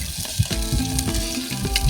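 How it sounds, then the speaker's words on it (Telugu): Chopped onion and green chilies hitting hot oil for an Andhra fish curry cooked in a clay pot, a close, loud, continuous sizzle with crackles and a few stirring knocks. "ఆయిల్ వేడైన తర్వాత కట్ చేసి పెట్టుకున్న ఒక ఉల్లిపాయ, 4 పచ్చిమిరపకాయలు వేసుకోవాలి."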